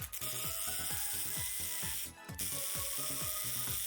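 An engine recoil starter is fitted and turned during an engine swap, giving a close, rapid run of regular ratcheting clicks that continues almost without pause, dipping briefly near the middle.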